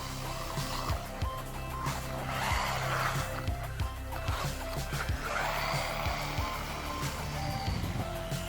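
A DEERC 302E RC car drives over grass with a high electric motor whine that rises and falls in repeated bursts of throttle, close and fairly loud, with no talk over it.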